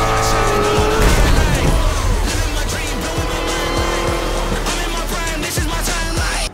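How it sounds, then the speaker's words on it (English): Modern race cars in the Forza Motorsport video game roar continuously with screeching tires and skidding, engines loud and close throughout with rapid shifts in pitch. "Race over 500 real-world cars, including modern race cars, and more than 100 cars new to Forza Motorsport"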